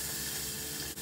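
Onions and cilantro sizzle in hot olive oil in a bowl, giving a steady, close frying hiss throughout a brief moment with one small dip near the end.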